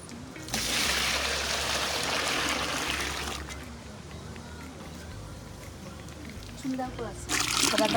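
Hot water poured out of a pot beside an outdoor wood-fired chulha, a steady broad splashing stream lasting a few seconds, then fading to softer trickling as people talk nearby.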